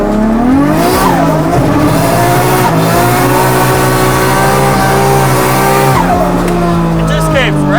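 Loud, sustained engine of an RB20-powered Ford AU Falcon drift car revving hard and holding high at Winton, with pitch swells and tire squeal, steady and close throughout.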